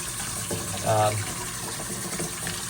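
Water splashing and running as a K&N air filter is rinsed clean, a steady close gush with a brief louder surge, while someone talks over it.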